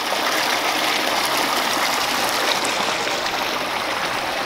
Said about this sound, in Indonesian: Nih airnya. Oh, ini irigasinya ya dari sini berarti ya.